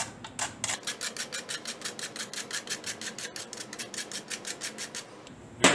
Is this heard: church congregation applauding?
no